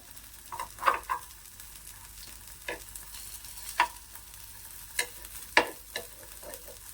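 Ragi appe, finger millet dumplings, cooking in an appe pan after being turned over, with a soft steady sizzle broken by a handful of sharp clicks and taps of the utensil, fairly quiet and without talking.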